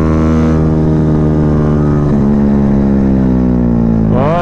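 A Yamaha Y15ZR motorcycle climbs a hill, its engine droning loud and steady under load, the pitch dipping slightly before a rising rev near the end, recorded close with no speech.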